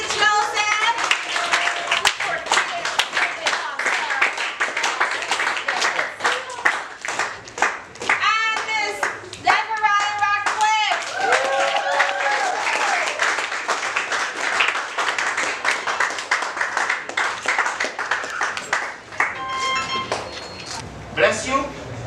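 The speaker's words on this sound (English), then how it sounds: "a big round of applause." An audience at a real estate school graduation ceremony claps in a sustained round of applause, moderately loud, mixed with speech from the hall.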